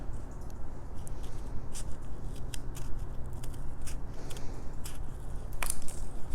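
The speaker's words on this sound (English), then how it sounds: "Just snip that down like so, and the same to the other corner as well." Scissors snip the corner of a packaging-board album base in a series of sharp, close cuts at an uneven rhythm.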